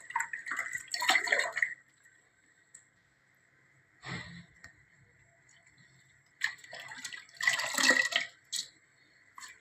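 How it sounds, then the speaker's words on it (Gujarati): Amaranth greens are swished and rinsed in a bucket of water, with bursts of splashing and sloshing in separate spells and quiet gaps between, close and moderately loud. "તાંદલજાની ભાજીને આ રીતે ડોલમાં નાખીને સરસ મજાની ધોઈ"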